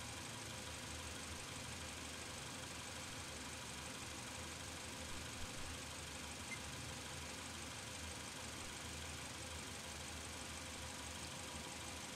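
A vehicle engine idles steadily throughout a transmission flow cooler test, a continuous broadband hum with mild knocking vibration and no speech, holding an even level from start to finish.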